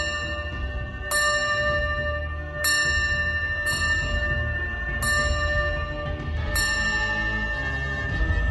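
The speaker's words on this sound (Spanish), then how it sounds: "por las noches, en esa finca puede escucharse el sonido de la campana" A bell in a horror tale tolls about six times at uneven intervals. Each loud, bright strike leaves long ringing overtones that fade over a low rumbling bed.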